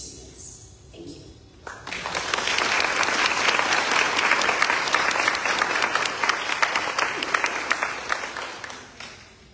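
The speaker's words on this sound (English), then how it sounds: "We need to not clap after every piece" An audience at a school board candidate forum breaks into applause after a candidate's closing words, the clapping swelling in after a quiet moment and continuing strongly to the end, with a few voices in the crowd.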